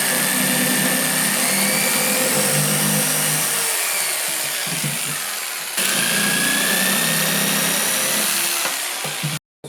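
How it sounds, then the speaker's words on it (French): A jigsaw cuts the corners of a rectangular wicker log basket, making a loud, close, continuous buzzing whine for nearly ten seconds, with a brief dip midway before it cuts off abruptly. "Donc maintenant je vais couper mes coins"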